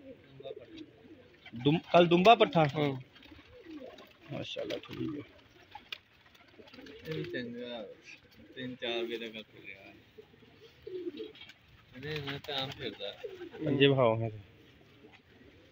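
Rooftop pigeons coo softly beneath several stretches of a man's conversation, the low rolling calls mostly masked by the talk.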